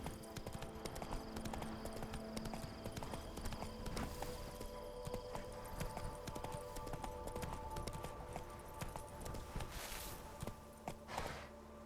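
Roach, a horse in The Witcher 3, trots with steady rhythmic hoof clip-clops on the ground, close and continuous under game ambience and music.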